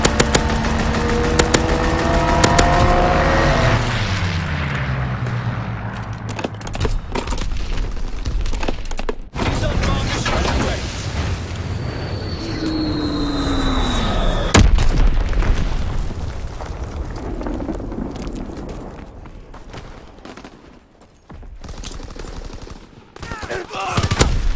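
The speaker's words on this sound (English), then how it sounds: "Fighter pilot inbound. Strafing the target." A World War II fighter plane makes a strafing run in Call of Duty WW2 multiplayer on the Ardennes Forest map, with a loud engine roar and dense bursts of gunfire and explosions sustained throughout, mixed with other game sounds.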